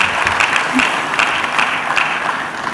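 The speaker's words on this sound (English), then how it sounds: "please give him another round of applause." Steady applause from a conference audience at the Lagos Employment Summit, a dense continuous wash of many hands clapping that stays loud and even throughout.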